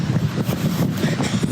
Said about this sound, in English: It's windy again on this direction.